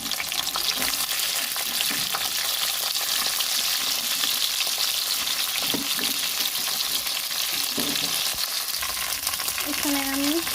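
Okra sizzles steadily with mustard seeds in hot mustard oil in a kadai, a continuous loud frying hiss with occasional stirring scrapes near the end.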